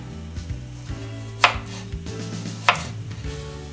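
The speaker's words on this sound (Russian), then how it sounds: "Чеснок нужно будет мелко-мелко порезать слайсами." A knife slices garlic cloves thinly on a cutting board, a series of soft, close taps at a steady pace with two sharper cuts standing out, in a quiet kitchen with no talking.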